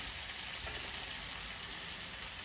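Onion, potato, carrot and green chilli fry in a pan as tomatoes are added for poha, giving a steady, even sizzle with no one talking.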